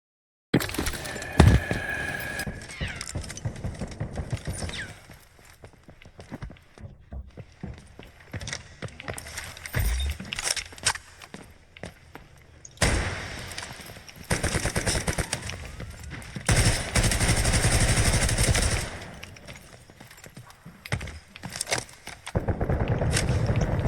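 Rapid bursts of gunfire and explosions from the video game Delta Force, heard through gaming headphones, interspersed with quieter stretches and faint footstep-like clicks, loud and close.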